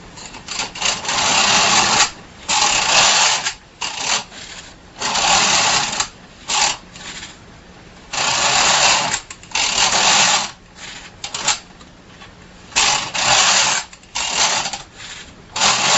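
A Bond knitting machine carriage is pushed back and forth knitting rows, giving a series of loud rattling, whirring bursts, each a second or two long, separated by short pauses.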